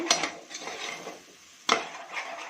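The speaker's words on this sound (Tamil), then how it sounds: "மசாலாவுடைய பச்சை வாசனை போகிற வரைக்கும் நல்லா கிளறிக்கணும்" A spoon stirs masala with chilli powder, Kashmiri chilli powder and kesari powder in a pan for veg biryani, making steady scraping strokes and one sharp clank of metal on the pan. No one speaks.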